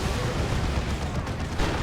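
Crack grenades explode in a Warhammer 40,000: Dawn of War 2 3v3 battle, a dense rumble of blasts and gunfire that goes on without a break and stays loud and close for the whole moment.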